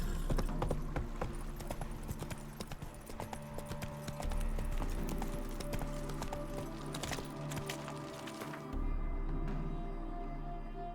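Hooves of Geralt's horse Roach in The Witcher 3 clop along steadily and close, with a constant low hum of ambience underneath and no talking.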